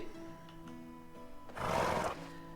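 A horse in the Medieval Dynasty video game lets out a single loud, rough neigh midway through, over soft sustained background music.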